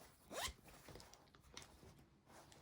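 A zipper runs along a quilting project bag in one quick, sharp pull near the start, followed by a few softer zip and fabric sounds. It is close and quiet, with no talking.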